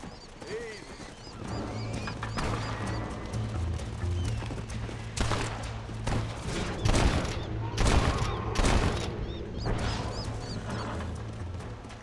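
Rapid gunfire cracks out in a loud volley of sharp shots in Red Dead Redemption gameplay, mixed with horse hooves clopping, faint birdsong and a voice talking.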